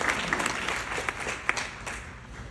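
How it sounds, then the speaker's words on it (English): An audience at a fundraising gala applauds, a dense patter of many hands clapping at moderate volume that gradually thins out. "I think we deserve a round of applause for everybody."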